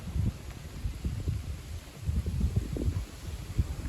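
Low rumbling wind gusts of up to 50 km/h buffet the microphone, rising and falling unevenly with no other clear sounds.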